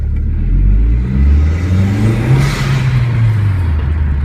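A 2003 VW GTI engine with an HPS cold air intake revs up loudly and steadily, its pitch climbing and falling with an intake whoosh, close by and continuous.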